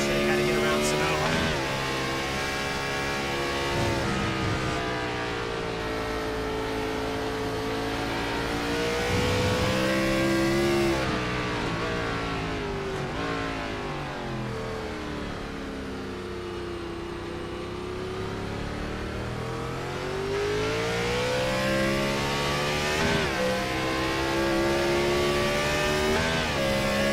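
The 24 race car's engine roars on board around the Sonoma circuit in a racing sim, its pitch climbing and dropping through the uphill S-bends, loud and steady beneath a commentator's voice.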